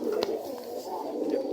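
Domestic-breed pigeons coo softly in a loft, giving low, rolling murmurs throughout with a few faint rustles.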